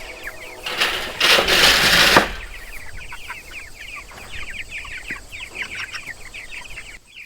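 A flock of broiler chickens clucking and chattering softly throughout, with a loud burst of rushing noise near the start, no speech.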